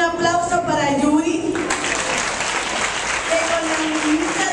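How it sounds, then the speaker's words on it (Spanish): Audience applause at a birthday celebration with children at a special education school, a steady wash of clapping that rises after a voice speaks at the start and continues under more talk. "Pido también un aplauso para Yuri,"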